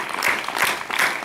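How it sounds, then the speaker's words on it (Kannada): Group hand clapping in a yoga session for International Yoga Day, a brief burst of many hands clapping together, fairly loud and steady. "ಆಮೇಲೆ 10 ಚಪ್ಪಾಳೆ."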